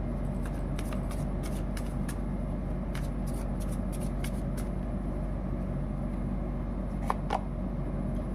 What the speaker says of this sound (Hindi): फिर से एक बार शफल करते हैं।